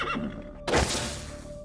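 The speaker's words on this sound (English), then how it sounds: "Oh, Rico, he's kind of a spooky horse anyways" A skittish horse on a ranch lets out a loud, sudden neigh after about half a second, close by and sharp at the start, then fading into a rough, breathy whinny.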